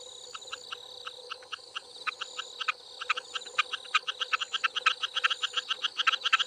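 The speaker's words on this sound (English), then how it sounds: "Male frogs do most of the calling. And they do this to try and attract a mate." A male frog calls at night in Brisbane, Australia, giving close, loud, repeated pulsed croaks that start spaced apart and then quicken into a rapid, regular series.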